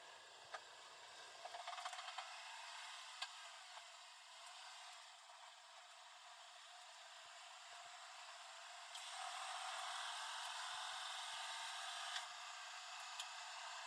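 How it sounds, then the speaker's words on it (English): A Daihatsu Hijet's faulty air conditioning compressor gives a steady whirring, hissing drone that steps up louder partway through, with faint ticks and rattles inside the cab. "this does sound like the compressor's making noise"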